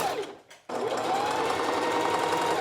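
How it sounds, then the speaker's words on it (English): A sewing machine stitches fabric around a curve while sewing pants, a steady, fast mechanical whirring and clatter that begins abruptly after a short quiet pause and runs on close and loud. "you're just going to gently curve the fabric through the machine"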